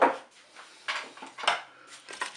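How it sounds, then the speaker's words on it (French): Potatoes tumbling into a Cookeo multicooker pot, a few soft irregular clunks and scrapes against the metal, close and fairly quiet with gaps between them. "Maintenant, on va rajouter les pommes de terre."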